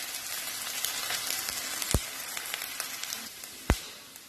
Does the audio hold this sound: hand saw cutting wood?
no